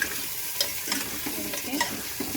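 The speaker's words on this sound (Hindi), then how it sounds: "फ्राई करते हैं।" Mutton neck pieces sizzle steadily in a hot pan, with occasional scrapes and stirring clicks over the constant frying hiss.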